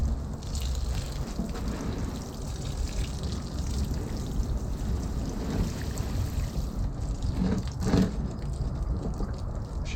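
Water trickling and pouring from a garden watering can in a greenhouse, a steady close splashing wash lasting several seconds with a couple of brief spattering bursts near the end, no talking.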